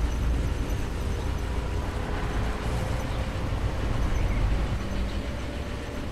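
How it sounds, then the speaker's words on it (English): A passenger train in the railway game Transport Fever rolls in with a steady, dense rumble and faint wheel hiss, holding a constant level throughout. "Got the passenger train just coming in now."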